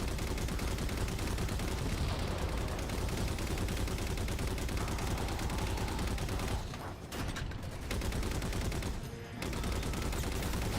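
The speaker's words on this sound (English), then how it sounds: "The actual pistol also sounds awful." Pistol shots in Halo, a busy stretch of rapid gunfire and combat noise, loud and continuous, broken by two short near-silent gaps late on.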